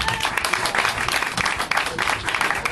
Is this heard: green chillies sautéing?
no